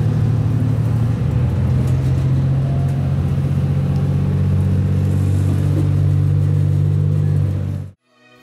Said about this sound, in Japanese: 駅を発車するときエンジンの力強い加速音が聞こえてきます。